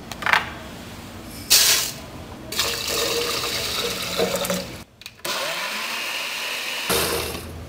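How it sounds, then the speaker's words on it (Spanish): Kitchen blender blending birdseed with a little water: bursts of loud motor whir and sloshing liquid, switching on and off several times with short pauses and a spin-down between runs. "Vamos a licuar el alpiste con un poco de agua por varios minutos."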